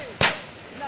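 A single sharp gunshot cracks out during combat between the army and guerrillas in Colombia, loud and close, with a short echoing tail that trails off into quiet ambience.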